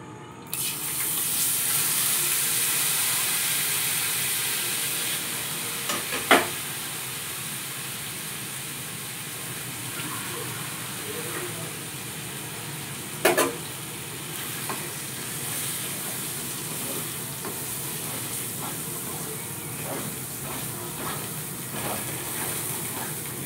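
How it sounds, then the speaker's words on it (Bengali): Dal paste filling stirred in a hot wok for ingredients for dal puri, a steady close sizzle with scraping strokes of the spatula and a couple of sharp clinks. "আমি এবার কড়াইয়ে ভালো করে এটা পুরটাকে নেড়ে নেব।"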